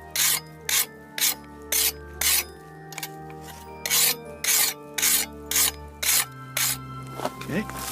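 A block of ice is carved into cups with a rasping tool, giving a close, regular series of short scraping strokes with brief gaps between them. A voice is audible faintly underneath toward the end.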